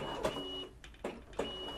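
An Evolis Primacy or Zenius card printer draws in a single blank white PVC card, giving a few short whirring mechanical bursts separated by brief pauses, close and moderately loud.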